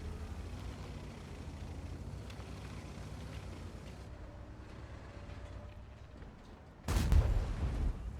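A heavy tank cannon blast in a video game, from a BZ-58-2 tank, booms out suddenly near the end, following a stretch of low engine rumble and faint ambient noise.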